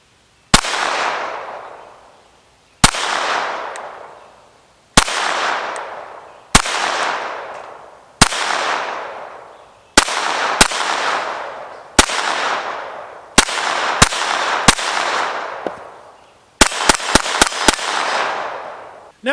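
A Taurus TX22 .22 LR pistol fires at bolt targets, wood pieces and steel: about fifteen sharp, close shots, spaced at first, then a quick burst of several near the end, each ringing out briefly.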